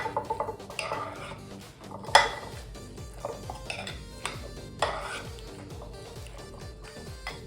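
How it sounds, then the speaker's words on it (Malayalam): Sweet pachadi mixed with jaggery is stirred in a bowl, a spoon scraping and clinking against the dish in irregular strokes with a few sharper knocks, close and moderately quiet. "ഇനി എല്ലാം കൂടി ഇളക്കി യോജിപ്പിക്കാം"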